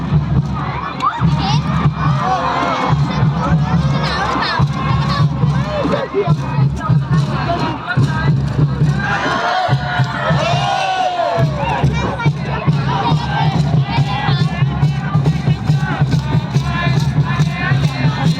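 A large crowd cheers and shouts without a break at a live event, loud and close, with children's shouts rising over a dense wash of voices.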